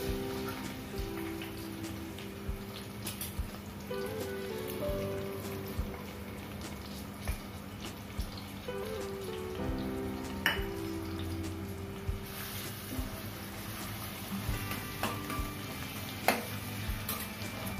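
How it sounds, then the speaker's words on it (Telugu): Onions sizzling and frying in hot oil in a pan while cooking paneer masala curry, a steady crackling hiss with occasional stirring clinks and utensil taps, close and continuous with no talking. "ఇది కొంచెం వేగిన తర్వాత, వేగనవసరం లేదు కూడా, ఆనియన్స్ వేసుకుందాం."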